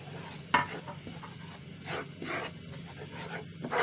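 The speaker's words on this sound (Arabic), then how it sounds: "نقلبه كده" Butter and flour are stirred together in a pan for béchamel, giving soft intermittent scraping strokes and a faint sizzle, a few quiet close scrapes spread out with pauses between them.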